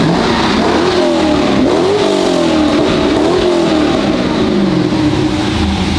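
A drift car engine revs loud and close, holding a steady, raspy drone with a few swells in pitch, unbroken by any voice.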